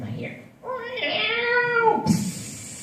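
A voice imitates a cat meowing, drawing out a long wavering, whiny meow of about a second and a half, followed by a short sharp higher noise.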